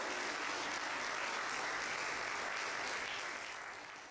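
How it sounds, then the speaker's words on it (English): Improv theatre audience applauding a volunteer on stage, heard as a faint, distant wash of steady clapping that holds evenly and then fades toward the end. "Round of applause for Caroline."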